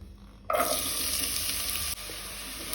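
Chopped onions frying in oil in a pan for a Goan mutton sukka, a steady loud sizzle with a hissing wash that starts abruptly and carries on evenly, no talking.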